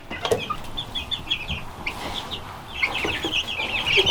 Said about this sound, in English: It's a bantam rooster.